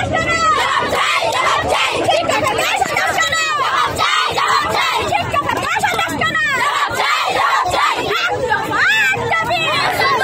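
Crowd of high school students protesting on a blocked highway service road, a dense, loud roar of shouting and chanting voices that never lets up, with individual cries rising over the babble throughout.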